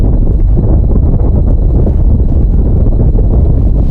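Heavy wind buffets a microphone outdoors, a loud, continuous low rumble that fills everything with no break.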